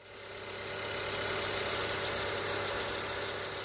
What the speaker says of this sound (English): Ever start your car and hear this noise before?